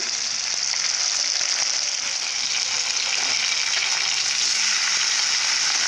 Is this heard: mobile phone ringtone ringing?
no